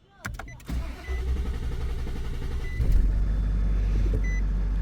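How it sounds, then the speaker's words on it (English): A Nissan Titan XD diesel pickup engine cranks with a couple of short bursts, then catches and settles into a loud, steady low idle close by. "try to start engine."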